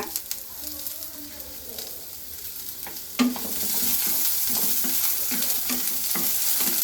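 Curry leaves dropped into hot oil with ginger for a green gram curry: a soft sizzle that bursts louder after a clatter partway through, then a continuous crackling fry with small pops, close up and without speech.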